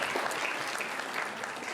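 Steady, dense applause from an audience at a question-and-answer session, a continuous wash of many hands clapping at even loudness throughout with no one speaking.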